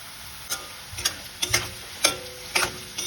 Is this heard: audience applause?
no